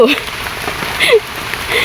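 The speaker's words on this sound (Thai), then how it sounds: "ฝนมันตกน้ำฝนตก" Steady rain falls and patters on surfaces outdoors, and a voice is heard briefly over it.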